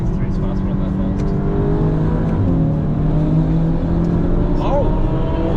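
BMW M4 and Mercedes C63 racing past on the track at Lakeside Park during a Euro Day, steady engine roar and whir heard from inside a car, continuous and fairly loud with no clear talk.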